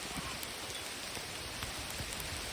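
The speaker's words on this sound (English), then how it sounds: "It's hailing." Hail pelting down during a roller-only disc-throwing challenge at Deerfield, a dense, steady patter of hard little strikes with scattered sharper hits, loud and close throughout with no voices.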